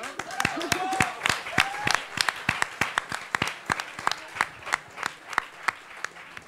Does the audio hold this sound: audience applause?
yes